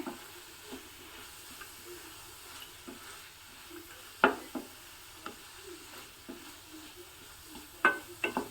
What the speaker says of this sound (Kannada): ಮೆಂತ್ಯ ಸೊಪ್ಪು ಕ್ಯಾಪ್ಸಿಕಮ್ಮು ಎಲ್ಲ ಎಣ್ಣೆಯಲ್ಲಿ ಚೆನ್ನಾಗಿ ಫ್ರೈ ಆಗಿಬಿಟ್ಟು